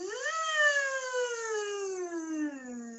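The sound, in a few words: voice imitating a vocal siren warm-up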